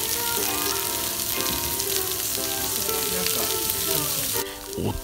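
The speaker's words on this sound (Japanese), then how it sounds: "油を引きまして、野菜を投入。" Onions and other vegetables sizzle and fry steadily in hot oil in a pan, loud and close, with a dense, continuous crackle and brief stirring near the end.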